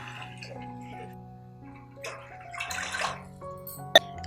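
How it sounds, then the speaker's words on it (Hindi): Water poured into a pan of frying kofta curry masala, a splashing, gurgling rush that builds in the middle and ends with a sharp clink. "अब हम इसमें 2 गिलास पानी डाल लेंगे।"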